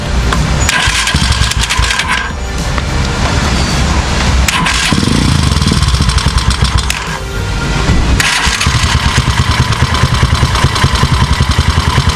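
A Kawasaki Z200 motorcycle with a magneto bolt fault turns over and runs, a loud rough idle close by, with revs rising and falling throughout.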